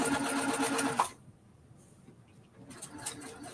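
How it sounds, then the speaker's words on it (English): Home sewing machine stitching a straight seam on a quilting project, a quick rapid mechanical whirr for about a second, then a pause before the motor resumes near the end. "I'm just going to sew straight, get it started, pull the pin"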